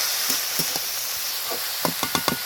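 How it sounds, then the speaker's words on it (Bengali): Sliced cabbage fries in a pan for vegetarian pakoras, a soft steady sizzle with a few sharp crackles and stirring scrapes, close and moderately quiet, no talk. "দেখুন আমি নেড়ে ছেড়ে বাঁধাকপিটা ভালো করে ভাজিয়ে নিয়েছি।"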